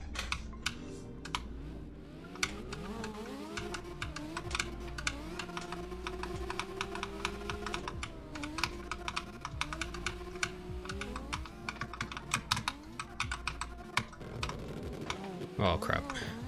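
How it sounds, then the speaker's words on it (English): Steady clicking of computer keyboard keys being typed on runs throughout, soft and rapid, mixed under game music and a woman's occasional speech. "Let me try using my keyboard."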